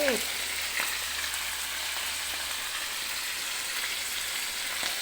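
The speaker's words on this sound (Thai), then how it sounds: "เดี๋ยวเราทอดปลาให้สุกก่อน" Fish fries in hot oil in a pan, a steady, even sizzle with soft crackles that runs unbroken throughout, close and fairly loud.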